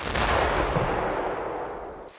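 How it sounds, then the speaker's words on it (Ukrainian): A loud TNT blast hits at once and rolls off into a long rumbling, crackling decay over a couple of seconds; a test charge set beside a protective face mask. "Ось поруч із маскою закладають тротилову вибухівку"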